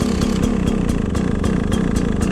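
A carbureted two-stroke dirt bike engine, electric-started with the choke on, idles low with a steady rattling putter and periodic sharper blips, close and fairly loud throughout.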